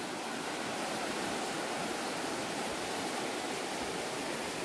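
A river flows past its bank, a steady, dense rush of water that holds constant and close, with no voices over it.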